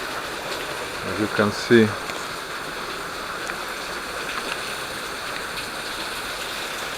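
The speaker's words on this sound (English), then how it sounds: "so it's quite a big waterfall" A large waterfall on Madeira roars as a steady, broad wash of falling water, constant and close throughout, with someone speaking briefly near the start over the rushing sound.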